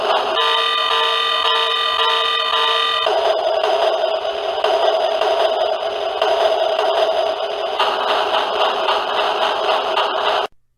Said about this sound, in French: cette loco est un réveil